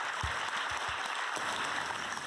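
A packed crowd of about 3,000 people at the Washington Hilton cheering and applauding at an awards event, a dense continuous wash of clapping with a few heavier thumps.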